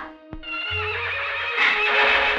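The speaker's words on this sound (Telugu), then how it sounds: "అన్నయ్య, గుర్రాలు తొందరపడుతున్నాయి." Restless horses neigh and whinny loudly in a long, shrill, wavering call, with a low rumble and a brief knock beneath, close and clear with no talk.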